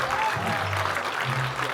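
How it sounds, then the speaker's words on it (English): A conference crowd applauds steadily as Ken Davenport takes the stage, with a dense wash of clapping and a few voices murmuring underneath. "Give him a round of applause"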